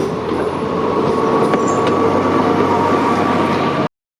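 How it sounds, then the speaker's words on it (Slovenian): A train hauled by a four-axle diesel-hydraulic locomotive rolls along the Šargan Eight museum railway, a loud, steady rumble of wheels and engine with faint squeals and clanks, close by, then cutting off abruptly. "Vlake vlečejo dizelske in parne lokomotive, toda po leti 2022 so vozile samo dizelske."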